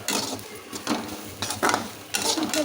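Tamarind leaves frying in a pan while being stirred for a chutney, with scraping clatter from the utensil and bursts of sizzle that come and go, close and fairly loud.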